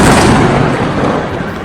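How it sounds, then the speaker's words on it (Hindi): Explosions at night during an attack in Pakistan, a loud, continuous rumbling roar with heavy low boom that fills the short stretch and slowly eases without a clear gap. "5 के करीब धमाके हुए, अलग अलग शहरों में धमाके हुए,"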